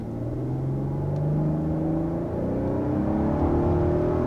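A 2022 Kia Carnival minivan's 3.5 liter V6 engine accelerates from inside the cabin, its hum rising steadily in pitch through smooth gear changes, moderately loud and with no talking.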